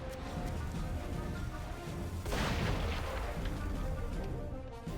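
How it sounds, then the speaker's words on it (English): Ship cannon fire in RuneScape 3, a broad booming burst about midway through over a steady wash of game ambience and music, with no talk. "Fire cannon."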